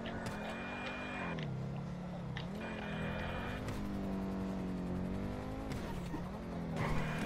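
Cars race in the GTA roleplay game, engines revving steadily with tire squeals and skids, loud and close throughout, with no talking.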